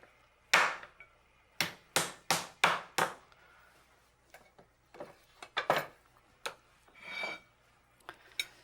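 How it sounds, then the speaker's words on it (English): A cleaver slams repeatedly onto lamb chops on a cutting board, a series of sharp close chopping thuds in quick bursts followed by scattered lighter knocks and handling sounds. "with a cleaver or even with sort of a wide knife, just you slam it and pull out at the same time"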